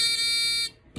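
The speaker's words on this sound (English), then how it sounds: "it would set off this like little buzzer speaker that I found" A small electronic buzzer speaker in a homemade sourdough starter alarm gives a steady high-pitched tone for most of a second, then cuts off abruptly with a brief click after.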